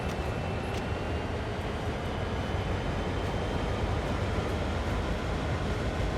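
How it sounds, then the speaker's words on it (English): Simulated freight train in Train Sim World 2 on Sand Patch Grade, accelerating over track switches: a steady, dense rumble of rolling wagons and engine noise, continuous and fairly loud throughout with no talking. "Gently does it as I accelerate powerfully over all these switches."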